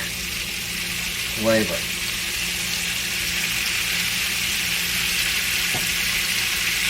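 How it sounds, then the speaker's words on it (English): Ground hamburger fries in bacon fat in a pan, giving a steady close sizzle throughout, while someone speaks briefly over it. "I'm just gonna fry this right up in the bacon fat"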